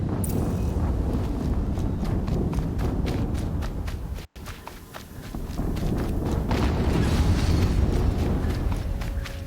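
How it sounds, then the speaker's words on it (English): Video game explosions and gunfire in Horizon Zero Dawn: dense, rumbling blasts and thuds fill the scene continuously, with one abrupt cut in the middle before the loud rumble resumes. "Another explosion."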